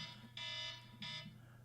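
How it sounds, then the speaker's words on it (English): A timer alarm sounds in two loud electronic bursts, each about a quarter to half second, over a steady low hum in a quiet indoor room with no talking. "That's the timer."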